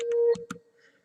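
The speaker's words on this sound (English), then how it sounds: "I apologize for my phone." Mobile phone sound: a short electronic tone sustained for about a third of a second, followed by a couple of brief clicks and a faint fading beep, with no speech.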